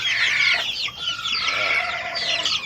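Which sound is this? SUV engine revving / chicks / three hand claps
chicks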